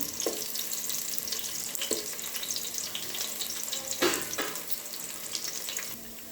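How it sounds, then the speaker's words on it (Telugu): Thinly sliced onions fry in a pan for a chicken dish, giving a steady close sizzle and crackle with a few soft stirring scrapes and no talking. "తర్వాత అయితే సన్నగా దరుక్కున్న ఉల్లిపాయలు అయితే ఇలా ఫ్రై చేసుకోవాలి"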